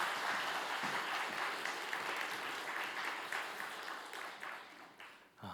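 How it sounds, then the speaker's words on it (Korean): A church congregation claps to welcome a pastor to the front, a dense, steady round of applause that carries on for several seconds before tapering off sharply. "우리 정말 환영의 박수로 반갑게 박수로 모시도록"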